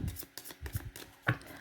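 Tarot cards being shuffled by hand, a short run of soft, quick riffling taps and flutters, close and quiet, with no voice over them.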